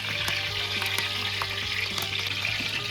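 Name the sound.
spices sizzling in hot oil for tempering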